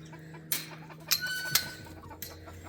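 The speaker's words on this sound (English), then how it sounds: "There's my bantams and my young hens." Bantam chickens and young hens cluck in a farmyard, a few scattered calls and squawks at moderate distance over quiet background.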